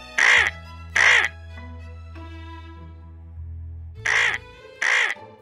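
A crow-like bird caws as an audiobook sound effect for an Andes mountain adventure story. Four loud, harsh caws come in two pairs, with a low sustained tone running between them.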